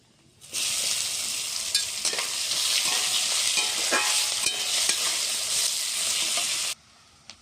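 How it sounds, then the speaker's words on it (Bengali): Panch phoron spices and chopped onion hit hot oil with a sudden loud, steady sizzle that runs unbroken for about six seconds, with a few stirring scrapes, before cutting off sharply; cooked in a rural Bengali style. "দিয়ে দিচ্ছি পাঁচ ফোড়ন দিয়ে দিচ্ছি কেটে রাখা পেঁয়াজ"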